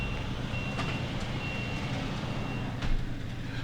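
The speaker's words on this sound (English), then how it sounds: "It's a truck dock in the back and they be beeping when they back up" Reversing alarms from trucks backing up at a loading dock behind a building, heard as faint steady beeping over a constant low rumble of engines and traffic, with a brief louder thump near the end.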